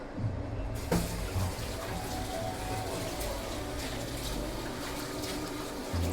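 Sauce bubbles and simmers steadily in a pot, to be poured over steamed fish, a dense, constant hiss with faint pops, close by and without voices.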